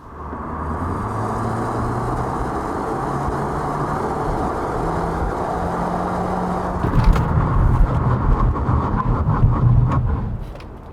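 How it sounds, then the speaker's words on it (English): Road noise from a new 2021 Kia Optima Hybrid on Pirelli tires during a braking test, a steady engine and tire drone that turns rougher and louder near the end as the car hauls down to a stop. "why don't we check out the braking performance of all new Kia Optima Hybrid"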